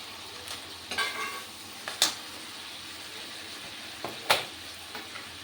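Peas and potatoes fry with spices in a pan, a soft sizzle broken by a few sharp scrapes and stirring knocks from a spoon, fairly quiet and without talk.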